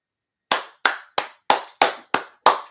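Seven sharp hand claps in an even, steady rhythm, each crisp and close with a short decay, with no talking over them.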